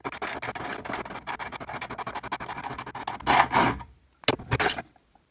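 A Parkside round metal file rubs and scrapes in quick, dense strokes close up, followed by a few louder, longer scraping passes and short gaps near the end, with no voices.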